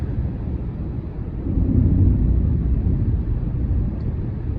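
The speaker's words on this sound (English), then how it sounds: "There's thunder." Distant thunder rolls outdoors beside a parked bus, a low, deep rumble that swells in the middle and then slowly fades back into the background.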